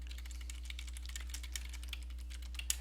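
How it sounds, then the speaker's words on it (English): Rapid typing on a computer keyboard while entering notes directly into an online teaching platform, a steady run of light clicks with occasional louder keystrokes, close and faint over a constant low electrical hum, no talking. "the students will actually be able to see you typing as that occurs"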